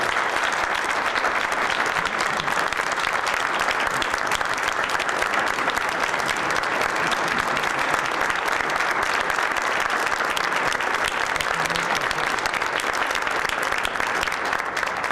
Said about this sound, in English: I think it would be great if we give Dave a special round of applause for his 16 years of service.